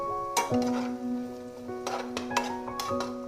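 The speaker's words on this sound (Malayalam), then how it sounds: "ജസ്റ്റ് ഒന്ന് വഴറ്റി കൊടുക്കാം" Onion and green chilli sautéing in a pan for chilli beef, with a utensil clinking and scraping against the pan in a few sharp, close knocks over a faint sizzle.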